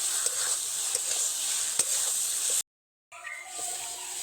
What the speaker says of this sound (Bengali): ভেজে রাখা আলু দিয়ে দেব এক মিনিট মতো আলুর সঙ্গে মশলাটা কষে দেব